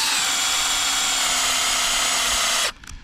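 A power drill bores into a tree trunk to set bolts while pre-setting a tree for saddle hunting. Its loud, steady, close whine runs for over two seconds, then cuts off abruptly, leaving brief quiet clatter.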